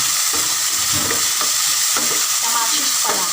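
Tomato sizzles and fries in a pan for pinakbet, loud steady frying with repeated scraping stirs of a utensil at a regular rhythm, no voices.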